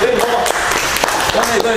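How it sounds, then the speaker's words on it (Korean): A lecture audience on leadership and thinking breaks into applause, a dense patter of clapping that fills the short moment while a voice carries on talking over it. "박수 한번 주시죠"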